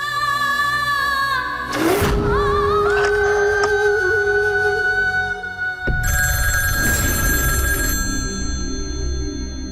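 Telephone ringing on and on with no answer, a loud electronic warble repeating in steady bursts with short gaps and some background noise between rings.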